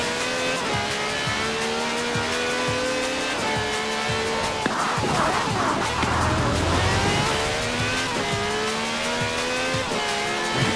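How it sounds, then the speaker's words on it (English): A V12 supercar with over 750 horsepower in Forza Horizon 4 roars through rising gear-by-gear revs, with a brief tire squeal midway before the engine climbs again, loud and close. "No clattery diesel engine here. This is a V12 with over 750 horsepower"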